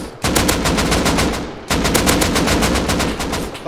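Rapid automatic gunfire sprays at enemies during a Rust video game battle, two loud sustained bursts of closely spaced shots separated by a brief pause, close and dominant with no talk.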